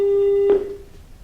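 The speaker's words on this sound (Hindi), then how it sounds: "हमारा संपर्क टूट गया है" A steady telephone line tone on a live phone-in broadcast that cuts off abruptly when the call drops, followed by faint line noise.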